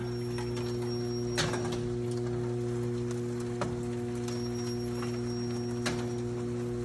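A rebuilt Belshaw Century 400 C400G gas fryer's new stainless steel conveyor running, giving a steady low mechanical hum with a few faint, evenly spaced ticks or clicks roughly every two seconds.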